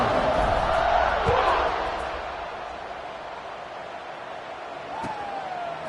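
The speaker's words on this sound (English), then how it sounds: "this crowd is buzzing after that last score" Stadium crowd buzzing after a score in NCAA 26 college football, a broad roar that is loudest at first, then eases into a steady murmur with a faint whistle-like rise near the end.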